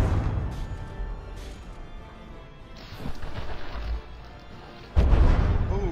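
Naval gunfire and shell impacts in the warship battle game From the Depths, with scattered distant booms, a sharper burst near three seconds and a loud crash at five seconds over a low rumbling background.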